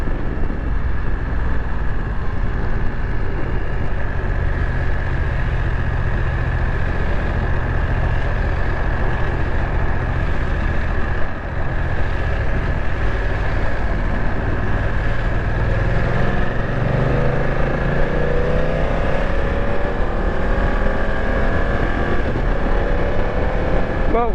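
A BMW F900 XR motorcycle rides through traffic with a steady, loud roar of engine and wind that never lets up.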